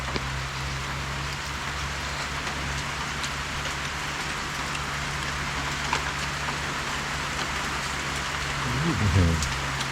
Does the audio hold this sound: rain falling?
yes